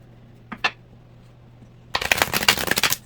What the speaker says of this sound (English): They're flying before I finish shuffle.